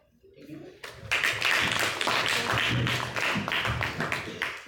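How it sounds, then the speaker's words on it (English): A meeting audience breaks into applause for the table topic speakers, clapping starting abruptly after a brief voice and continuing as a lively, fairly close patter of hands, with some murmuring underneath. "Please give 100 rounds of applause to all the table topic speakers."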